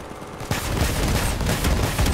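Heavy automatic gunfire from vehicle weapons in the Crossout combat game, a dense loud barrage of rapid overlapping shots with booming impacts, starting abruptly after a brief quieter moment.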